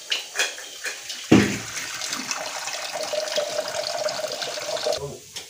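Water poured into a pot while preparing pani puri at home, a steady running stream lasting about four seconds after a few light knocks, fairly close and moderately loud.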